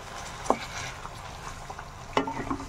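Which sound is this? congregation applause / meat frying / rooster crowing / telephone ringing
meat frying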